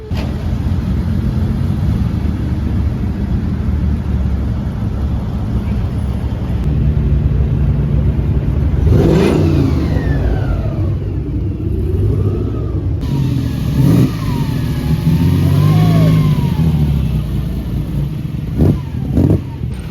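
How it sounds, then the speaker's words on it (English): A fleet of Queen Elizabeth's Range Rovers passes at the Pebble Beach Concours, heard as a steady engine rumble with a vehicle accelerating and sweeping by mid-clip, followed by more engines revving over constant outdoor noise. "Here comes Queen Elizabeth's Range Rovers, all in a fleet as they should be."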